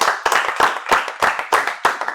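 A small audience at a golf club awards evening claps in loud, distinct bursts, the individual hand claps standing out in a fairly regular rhythm throughout.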